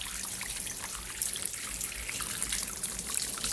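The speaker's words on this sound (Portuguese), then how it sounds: "Olha a cor da água que tá saindo." Muddy water runs from a tap as a steady, close trickle with a light hiss, continuous throughout and without speech.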